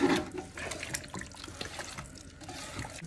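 Beef being rinsed under a running kitchen tap, water splashing steadily into a sink with small drips and clatter, fairly close, no one talking.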